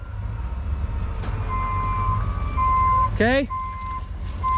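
A portable-toilet service truck backs up while stuck in mud, its reversing beeper sounding in spaced tones over a low engine rumble. A short rising chirp cuts in partway through, and someone speaks briefly.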